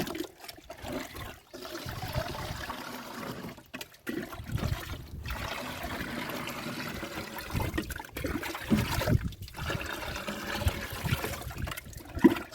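Water pouring and splashing into a container being filled to water rose and other garden plants, a continuous close gurgling flow with small surges and splashes.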